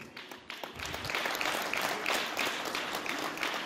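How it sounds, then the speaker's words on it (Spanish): An audience at a school end-of-year closing ceremony gives applause for a fourth-grade children's dance, with steady, dense clapping that builds and holds over a faint murmur of voices. "Fuerte los aplausos para ellos."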